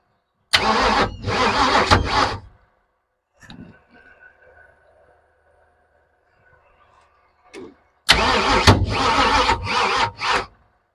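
Rebuilt engine in a footbrake race car cranking, with two loud bursts of starter-and-engine noise around a quiet stretch of faint low idle hum, then another strong burst of cranking and firing near the end.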